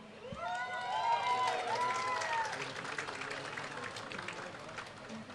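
An audience at an official ceremony in Indonesia's new capital Nusantara claps for the best traditional outfit winners. The applause swells, holds and then fades over a few seconds, with a voice calling out over it and scattered cheers.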